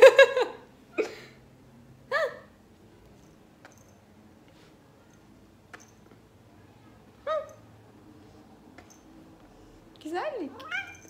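A house cat meows several times in short separate calls spread across a quiet room, near and fairly clear, with long silent gaps and a final drawn-out cry.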